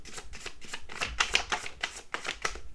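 A deck of playing cards riffled and shuffled in a quick, steady run of papery bursts, close and fairly soft, with no talk over it.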